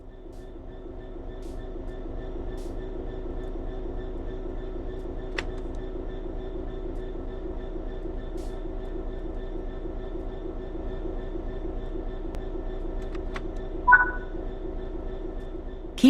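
A train in Train Sim World 3 rolls along with a steady low rumble and hum of the running gear, sustained and even, with a few faint clicks and a short squeal or tone near the end.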